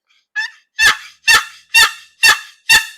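Handmade goose call blown by its maker, five loud, close honking blasts in an even rhythm after a short, softer opening note, with no talking.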